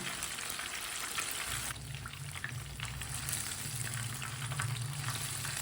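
Fish frying in a pan with a little ghee gives off a steady, close, even sizzle that holds without pause, with no voices over it.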